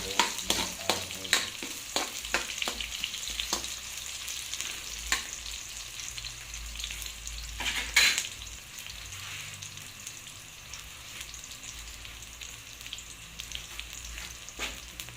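Garlic and onion aromatics fry and sizzle in a pan while being stirred, with a steady hiss broken by repeated scraping strokes of a utensil and one louder clatter near the middle; no talking.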